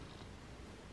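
A sleepy cat purrs in a continuous, close, soft rumble that fills the short moment.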